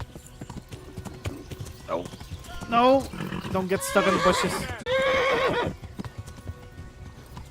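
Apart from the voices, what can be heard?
horse hooves galloping in video game Kingdom Come: Deliverance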